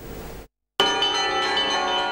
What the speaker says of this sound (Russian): Праздничный перезвон колоколов возвещает Медовый Спас